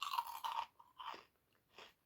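Crunchy Japanese snack being bitten and chewed up close: a few loud, crisp crunches followed by softer, spaced chewing crunches, with no talking.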